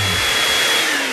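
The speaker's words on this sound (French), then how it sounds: "il suffit de le souffler avec une sèche-cheveux" A hair dryer blowing steadily and loudly up close, a dense even whoosh of airflow with a motor whine underneath, heard alone without talk.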